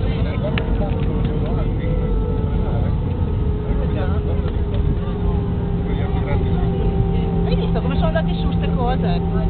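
Air France Airbus A318 braking on the runway after landing at Paris CDG, a steady loud cabin roar and rumble with engine hum throughout, people talking over it.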